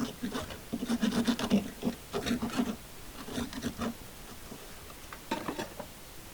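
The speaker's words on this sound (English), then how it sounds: "Now we got a wood rasp, and it seems to do the job pretty good" Wood rasp filing material while fitting a small concave swivel fitting onto a Wagtail squeegee: a series of rough, scraping strokes in uneven bursts, close and moderately loud, with quieter gaps between.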